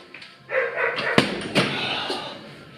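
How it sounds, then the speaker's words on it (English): Dogs bark in several sharp bursts during an indoor weightlifting session of squats and snatches, fairly close and loud over a steady room background. "Mind the dogs."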